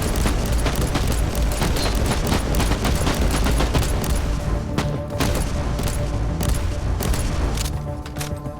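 Bolter fire in Warhammer 40K: Inquisitor Martyr, heavy gunfire hammering steadily and almost without pause for several seconds, loud and close, with booming impacts mixed into the rapid shots.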